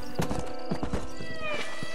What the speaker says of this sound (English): probably can't get that horse through the alley.